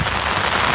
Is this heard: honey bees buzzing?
no